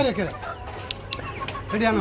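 Egyptian Fayoumi chickens on a poultry farm cluck nearby, several short throaty calls overlapping across two seconds with faint flock noise behind them.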